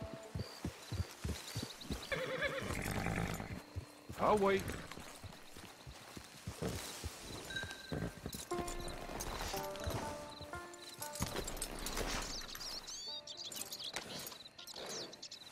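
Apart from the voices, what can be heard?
horse neighing and hooves in video game Red Dead Online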